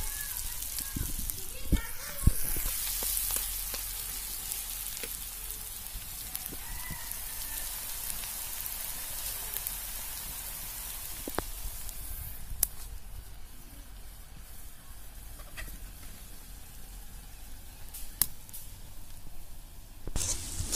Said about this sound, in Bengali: পেঁয়াজগুলো সুন্দরভাবে বাদামি কালার করে ভেজে তারপর সেটাকে একটা পাত্রে উঠায় রাখতে হবে